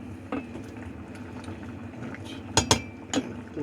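B.O.B. soup boiling in a pot on a stovetop with the heat turned down, a soft steady bubbling simmer close by, broken by a few sharp clinks of a utensil against the pot near the end.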